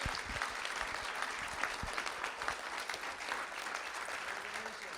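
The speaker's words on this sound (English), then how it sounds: "Let's give them a round of applause." Applause at a school district board of trustees meeting for two champion junior track and field athletes, steady clapping from a room of people for about five seconds, with faint speech murmuring underneath.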